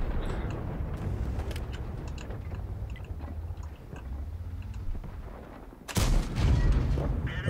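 Tank cannon shots and battle noise from the game World of Tanks with a T34, a dense rumbling mix of booms and impacts, ending in a loud close blast near the end.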